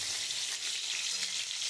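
Pointed gourd (potol) slices frying in hot oil give a steady, dense sizzle that holds at an even level for under two seconds, with no voices over it.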